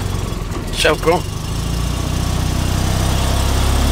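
A Fiat 126p engine catches and settles into a steady running idle after a long fuel-supply struggle, a close, continuous low rumble, with people speaking briefly over the start.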